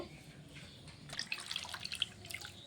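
Thin flattened rice (chira) being rinsed in water, with faint, close trickling and small splashes and drips that pick up partway through; no one speaks.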